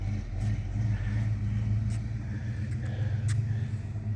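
A 1984 Chevy C10 pickup with a four-speed manual gearbox driving along, heard from inside the cab as a steady low engine rumble with mild swells as the throttle changes and faint higher noise on top.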